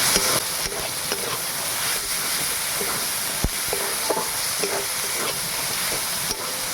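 Fish roe sautéing with spices in a pan, a steady loud sizzle with stirring scrapes and occasional utensil clicks throughout, no voices.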